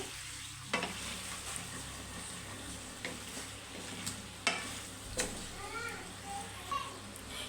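Chicken fries with ginger garlic paste as a spoon stirs it, a continuous sizzle broken by scraping strokes against the pan, with a voice faintly in the background.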